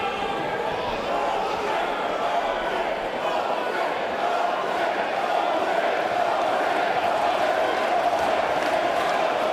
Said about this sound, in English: The loudest this Newcastle crowd has been all evening.